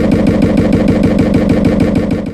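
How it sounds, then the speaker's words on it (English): A VW camper van ignition sound, heavily processed in a sampler, forms a loud rhythmic engine chug with rapid, evenly spaced pulses throughout for a podracer effect. "I took one of those ignition sounds from the VW camper van and heavily processed it in a sampler"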